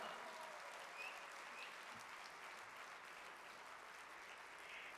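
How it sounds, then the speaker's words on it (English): Faint, steady applause from an audience honoring Miss America continues for the whole stretch, with no talking over it. "I want to hear a thunderous round of applause for Nina, Miss America."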